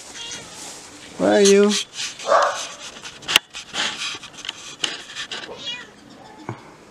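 A cat meows outdoors among garden plants during the rainy season, a clear drawn-out meow followed by a shorter one, close by, with a person calling and talking around it.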